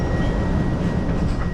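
Bucharest metro train running, a loud steady rumble and rail roar with a faint high whine, continuous throughout the short stretch with no talk.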